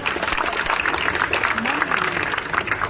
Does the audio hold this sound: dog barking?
no